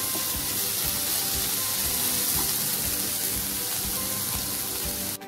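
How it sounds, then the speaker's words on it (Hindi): Spices with garam masala roast and sizzle in a hot pan for a corn masala dish, a dense, continuous frying hiss up close with faint scraping, no speech over it. "तो अब हम ठीक से इसे मसालों को हम थोड़ा सा भून लेंगे।"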